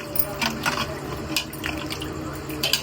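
Water poured into a pot of mushroom biryani on the stove, a soft continuous splashing trickle at close range, steady over a low kitchen background.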